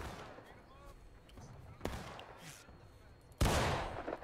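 Gunfire at a reenactment battle event in Hagerstown: two sharp, close shots several seconds apart, the second louder, over a murmur of voices and crowd noise.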